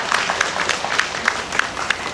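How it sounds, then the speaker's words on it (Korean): Audience applause for a former minister at a national memorial ceremony for COVID-19 and vaccine victims, steady clapping with sharp individual claps standing out through a short stretch. "귀한 말씀 전해주신 우리 김영진 전 장관님께 다시 한번 힘찬 박수"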